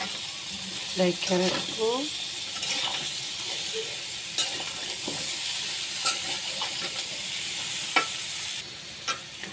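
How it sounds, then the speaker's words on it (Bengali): Potatoes and pointed gourd are stirred in a pan with rohu fish, the spatula scraping and clattering over a soft constant sizzle of frying, while someone speaks briefly in Bengali. "এখন আলু পটলগুলো দিয়ে দিব। ভালো করে নাড়িয়ে"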